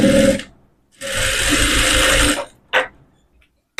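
Sewing machine stitching umbrella fabric, loud close mechanical whirring in two runs, one short and one longer, followed by a couple of brief clicks and silence.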